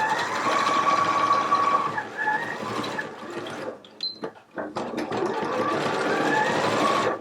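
A sewing machine stitches a jacket sleeve side seam, running in steady loud bursts with a brief pause and a few short clicks of repositioning midway before the motor resumes.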